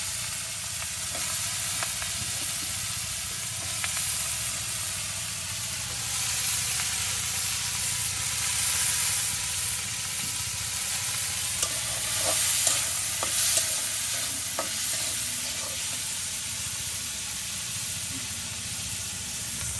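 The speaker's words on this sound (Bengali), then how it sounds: "আর এখন এই যে আপনার মশলার সাথে ভালো করে এটাকে এখন ভাজা করে" Boiled chickpeas and potatoes fry in spice paste in a pan. A steady, loud sizzle hisses throughout, with scattered scrapes and knocks from stirring and no talking.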